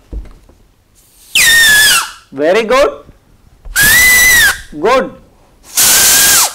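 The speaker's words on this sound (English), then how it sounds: "let us see whose whistle is louder" Children whistling loudly one after another in a classroom contest, three long shrill whistles alternating with brief bursts of a voice giving praise.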